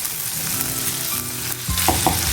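Spices sizzling and frying in a hot pan for a festive offering-style khichdi, a steady loud crackle with a stirring scrape and a sharper burst of sizzle near the end.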